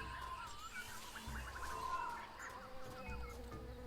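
A bee buzzes in the Tales of Monkey Island video game, a soft, wavering, high drone with a few brief chirping flutters near the middle, over a low background hum.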